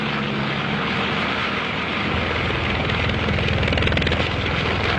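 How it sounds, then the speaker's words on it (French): Four engines of a French military transport plane roar at full throttle, a loud and continuous droning rumble that swells slightly toward the end, with no voices over it. "Le pilote tire sur les manettes des gaz, fait gronder les 4 moteurs de toute leur puissance."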